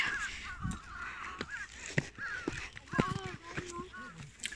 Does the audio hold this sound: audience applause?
no